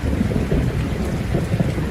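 Heavy rain pours steadily with a low rumbling like distant thunder beneath it, a dense continuous wash of noise with no voices.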